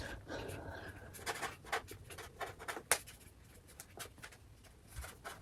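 Pen scratching out an answer on paper, a run of quick faint scribbles and taps close by, with low room noise and no clear talking.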